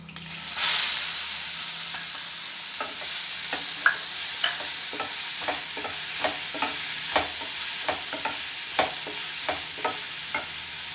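Onions frying with salt in a pan for chana masala: a soft, steady sizzle punctuated by regular spatula taps and scrapes about every half second, close by, with no talking.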